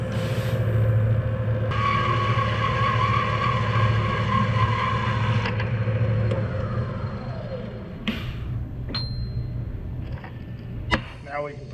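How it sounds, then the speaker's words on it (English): A saw cuts the excess off a machined metal step bar in a shop, a steady mechanical whir for several seconds that stops, followed by clanks and brief metallic rattles, with someone talking over part of it. "So I'm just going to simply put this in the saw"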